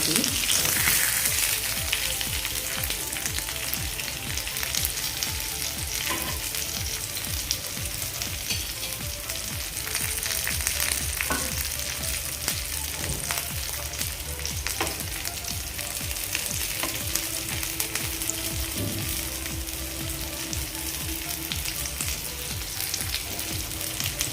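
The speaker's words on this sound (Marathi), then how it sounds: "आता आपण मिडियम करून घेऊया म्हणजे आपले हे मासे व्यवस्थित असेल फ्राय" Bangda mackerel fish fry in oil in a pan over medium flame, a dense, steady close sizzle with crackling pops lasting throughout, loud and continuous with no talk.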